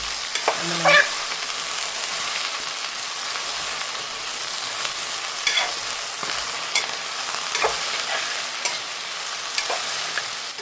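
Okra cooks in a pan over a low gas flame, producing an even, close sizzling hiss with a few faint stirring knocks throughout.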